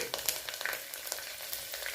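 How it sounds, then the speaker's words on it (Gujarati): Finely chopped garlic fries in hot oil with asafoetida for a dal tempering, a quiet crackling sizzle with small pops scattered across two seconds, no voices. "આ રીતના તમે લસણનો વઘાર કરશો તો દાળ ખાવામાં એકદમ સરસ લાગશે"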